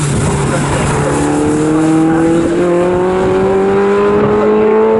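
Racing cars roar past on the Snetterton circuit during a Sport Specials championship race, engines climbing in pitch as they accelerate, loud and close with an announcer heard faintly.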